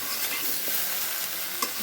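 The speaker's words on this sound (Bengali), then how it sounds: "আমি এটা 10 মিনিট ভেজে নিয়েছি।" Malabar spinach fruit fries in a pan while being stirred, a loud, dense sizzle close up with soft scraping movements and a small knock near the end.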